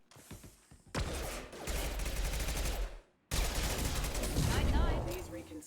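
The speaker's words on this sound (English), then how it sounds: "Flashbang." A flashbang detonates in a sci-fi shooter game, a loud blast followed by a sustained roaring burst, then a brief drop and a second long crackling wash of noise.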